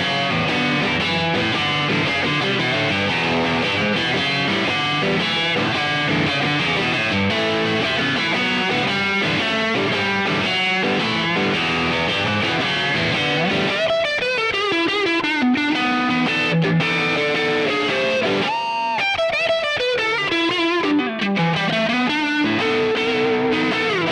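Heavily distorted electric guitar, a T-type through a five-way switch, plays dense riffs and sustained notes, with swooping effects-laden bends later on, loud and continuous.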